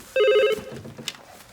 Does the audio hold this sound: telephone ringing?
yes